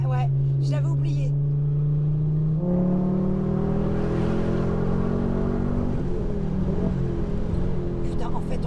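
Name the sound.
Ford Focus RS MK2 engine accelerating hard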